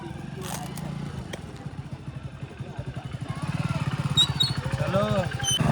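A motorcycle engine runs with a steady low rumble that grows louder as the bike is taken out and ridden off, with faint voices in the background.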